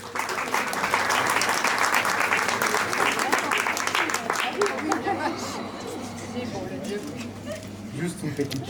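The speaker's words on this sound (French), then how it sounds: "On peut l'applaudir." Audience at a student talent contest applauds the performer Louis, a strong burst of clapping that gradually thins out, with crowd chatter and murmuring underneath.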